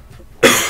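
A single sharp cough from a person with a sore, hoarse throat bursts out close to the microphone after a near-silent moment, then trails off.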